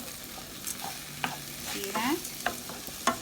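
Green split peas stirred in a pot during stewing, a spoon scraping and clinking against the pot while a soft sizzle runs underneath, with a brief remark from a nearby voice.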